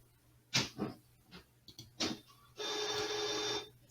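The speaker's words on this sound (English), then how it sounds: "Sorry, I don't know what my printer is doing." A home printer running at close range, with a few separate mechanical clicks and whirs followed by a steady, loud, grinding print pass lasting about a second.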